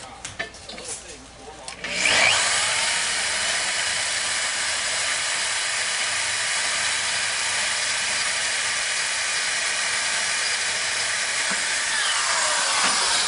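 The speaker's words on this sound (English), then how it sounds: "especially if you have a big torquey drill like this" A big, high-torque power drill bores into a large valve, starting after a brief pause and then running steadily and loudly with a hissing, grinding whir for a long stretch.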